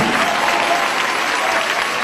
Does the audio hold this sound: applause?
yes